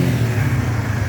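A tuned car engine holds a loud, steady rev in neutral near its rev limiter. The drone is close and continuous, with a slight wavering roughness and no voices.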